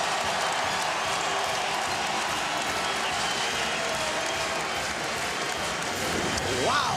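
A college basketball crowd at Texas A&M in College Station, on its feet against Baylor, roars and claps in a loud, sustained wall of noise, with a whistle-like squeal rising near the end.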